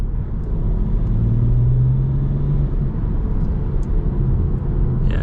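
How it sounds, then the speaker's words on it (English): A six-cylinder diesel car engine accelerates with a steady, loud low rumble from inside the cabin and a slowly rising drone, with no voices. "when you do put your foot down, there is a bit of kind of a rumble from the engine"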